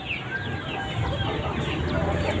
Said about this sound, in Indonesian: Ada beberapa ayam yang kita budidayakan di sini, diantaranya ayam kampung asli